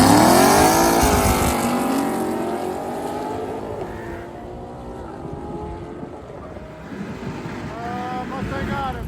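A Ford Mustang S550 drag racing a Corvette C5: loud engine roar with rising and falling pitch, easing off mid-run, then building again.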